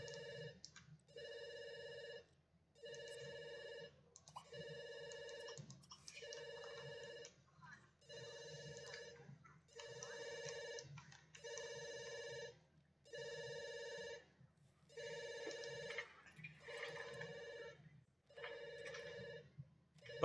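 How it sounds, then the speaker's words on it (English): A telephone rings in The Sims 2 in a steady repeating pattern of electronic bursts with short pauses, about a dozen rings over twenty seconds, fairly quiet with faint background noise beneath. "The phone's ringing again."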